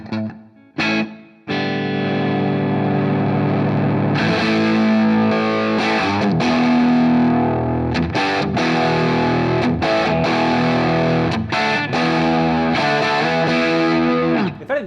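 Electric guitar through a SoloDallas Schaffer Replica Classic pedal, playing loud, crunchy distorted chords and riffs with choppy stops and restarts, ringing sustained notes and no voices.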